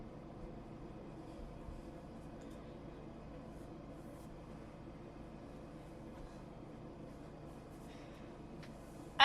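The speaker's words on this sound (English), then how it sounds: "we're already starting to roll into the tunnel that leads into Lynn by the Sea" A Stepford Express passenger train in the Roblox game Stepford County Railway rolls toward the tunnel into Lynn by the Sea, a steady low rumble and drone of the moving train that holds even throughout, with a faint click at the end.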